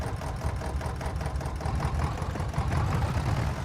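Zetor tractor engine running in Farming Simulator 22, a close rumbling diesel chug with rhythmic knocking that swells slightly louder toward the end, with no voices over it.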